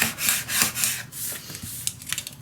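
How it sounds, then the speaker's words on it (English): A scraper smooths self-adhesive vinyl onto chipboard in quick, close rubbing strokes, several short swipes in an uneven rhythm with brief pauses between them. "for the last piece I use my scraper"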